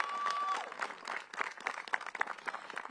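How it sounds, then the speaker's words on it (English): Audience at a DC mayoral budget briefing clapping for the city transportation department team, sparse uneven claps rising and falling at moderate distance after a brief tone at the start. "Give DDOT a big round of applause."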